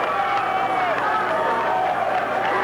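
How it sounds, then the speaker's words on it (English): A big crowd cheers at a 1991 high school wrestling dual meet between Fairfield and Lakota. It is a steady, dense roar of many voices and shouts that fills the whole stretch without a break. "there's just a lot of noise going on, a lot of cheering"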